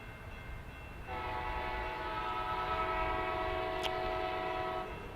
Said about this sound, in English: I don't know if this is Amtrak or the Coaster that's headed our way.